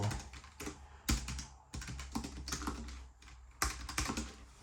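Typing on a Logitech G915 TKL keyboard, a close, steady patter of key presses with a few louder bursts of keystrokes, heard alone without any talk.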